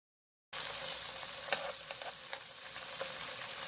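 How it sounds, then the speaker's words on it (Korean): Cheese and bacon rolls grilling in a pan, a soft continuous sizzle with small crackles and pops, quiet and close, starting abruptly after a moment of silence. "치즈도 베이컨도 노릇노릇 맛있게 잘 구워지고 있죠?"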